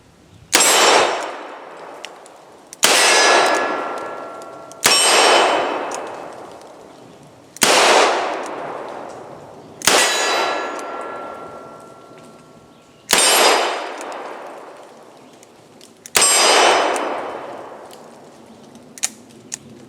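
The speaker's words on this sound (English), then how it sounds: "So I'll be shooting double action because I need to practice that." .357 Magnum handloaded revolver fired double action, six loud sharp shots spaced roughly every two to three seconds, each with a long ringing decay, no talking.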